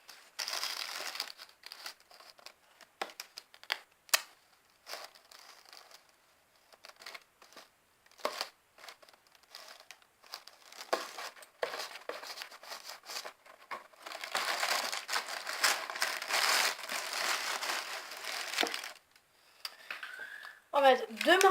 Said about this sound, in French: On va mettre 2 morceaux de scotch